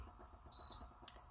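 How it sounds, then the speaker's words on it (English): A single clear electronic beep, steady and fairly loud, lasts about a quarter second against a quiet indoor background, followed by a faint brief click. "sorry, I have a beep here."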